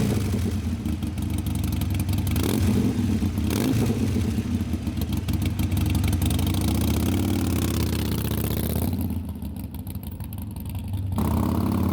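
A Harley-Davidson Roadster motorcycle with Vance & Hines exhaust pipes idles with a steady, loud, deep rumble that eases briefly near the end before settling back.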